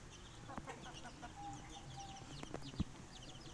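Chickens, including five-month-old birds, cluck softly and intermittently amid a busy farmyard background, with a sharp knock and faint bird calls scattered throughout.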